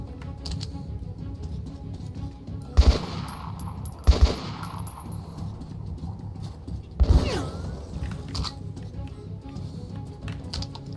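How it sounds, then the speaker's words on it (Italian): Three sharp gunshots in the video game Metro 2033 Redux ring out at irregular intervals, moderately loud against a steady low game background hum. "Sento che sparano, ma da dove?"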